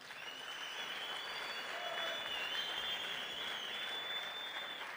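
Audience at a South African sport, arts and culture ministry event giving a sustained round of applause, steady and fairly distant, with whistles or cheers riding over the clapping throughout.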